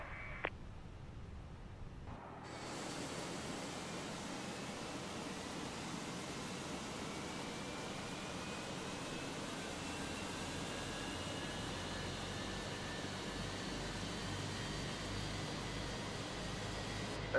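Engine 1 of an airliner in the Fenix A320 flight simulator spools up after a brief quiet start. A broad, steady rush of jet noise swells in and holds evenly, with a thin rising whine beneath it.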